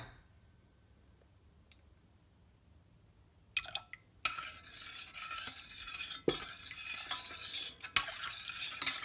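Near silence gives way to close, repeated stirring as a utensil scrapes and sloshes through a bamieh mixture in a bowl, a rhythmic wet clatter that continues steadily to the end.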